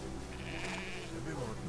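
Sheep bleating in the World War One video game Valiant Hearts, a few wavering calls rising over steady game background noise, with someone speaking Spanish over them.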